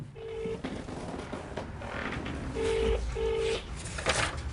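Touch-tone dialing on a shop phone set to speakerphone produces a few beeping key tones, with other background sounds around them.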